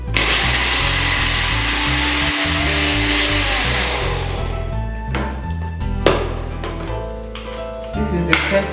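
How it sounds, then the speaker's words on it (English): Food processor dry mill grinding toasted oats into flour, a loud steady whirring motor drone that fills the first half, then eases into lighter rattling and knocks with short bursts. "I will just put this in the dry mill section of my food processor"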